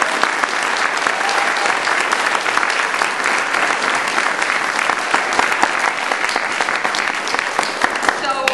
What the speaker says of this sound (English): I want to ask you all to give them a big round of applause.